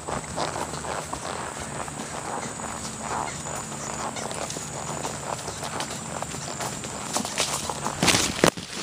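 Horse hooves clopping along a trail ride, steady footfalls at moderate distance with rustling around them and a sharp knock near the end.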